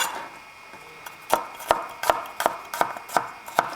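A knife chops garlic cloves on a cutting board, giving eight sharp, evenly spaced taps close up that start after a quiet moment, with no talking.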